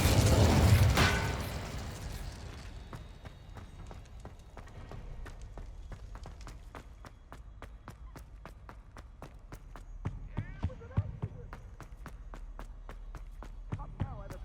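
Spells cast in Hogwarts Legacy, Confringo, Expelliarmus and Incendio, open with a loud blast that fades into a long stretch of rapid, regular crackling impacts and a few brighter pops near the end, with no voices.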